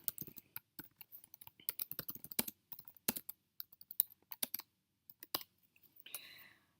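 Code being typed on a computer keyboard: irregular bursts of crisp key clicks with short pauses between runs, close and quiet, no one talking.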